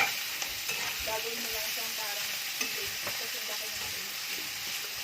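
Kimchi, meat and garlic sauté in hot oil, a continuous sizzle broken by the scrape and clatter of stirring, steady and close throughout.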